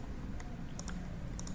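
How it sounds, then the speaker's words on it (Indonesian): A handful of quick keystrokes on a computer keyboard as a domain name is typed, light clicks in an irregular run over a low steady hum. "Kita cukup saja mengetik nama domainnya."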